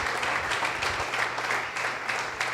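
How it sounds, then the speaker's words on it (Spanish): A church congregation claps together during a service, a dense, steady burst of applause heard up close with a low hum underneath. "¿Por qué no le damos un aplauso al Señor?"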